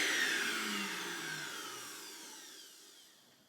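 An iRobot Roomba J7 self-emptying into its base bin, heard as a loud whooshing suction whine that starts strong and slowly fades, with a falling pitch and no talk.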